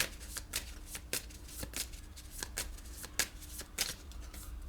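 Animal spirit oracle cards are shuffled by hand in a quick series of crisp riffling bursts and soft slaps, about eight sharp flutters in an uneven rhythm, close and clear, with no talking.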